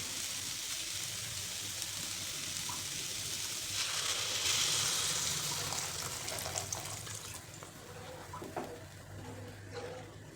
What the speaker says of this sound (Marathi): तर आता आपल्याला यामध्ये पाणी घालायचं.